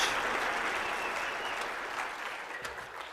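A crowd applauds Ron Paul at a speaking event, steady broad clapping filling the room from a moderate distance and slowly tapering over a few seconds.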